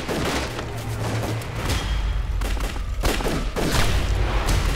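A volley of rifle fire crackles through a battle scene from a Chinese war drama about resistance against Japanese troops. The dense, continuous gunfire comes in bursts and has booming low rumbles beneath it.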